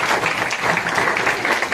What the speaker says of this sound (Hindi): डॉक्टर अतुल जसवाल सर के लिए एक बार फिर जोरदार तालियां होनी चाहिए